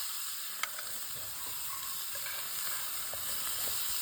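Meatballs fry over an open fire with a steady close sizzle, a sharp pop near the start, and light crackles throughout.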